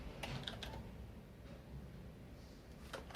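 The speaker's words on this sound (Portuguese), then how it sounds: "na barrinha de pesquisa perto do iniciar e você vai digitar o seguinte" Quiet, irregular clicks of typing on a computer keyboard in a Windows 10 search bar, a short burst of keystrokes with brief pauses, heard close up and alone.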